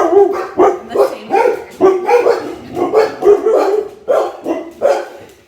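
Several dogs bark in a steady run of about a dozen loud, close woofs and yips, spaced roughly half a second apart, with no other sound.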